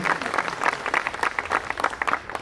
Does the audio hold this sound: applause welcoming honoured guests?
yes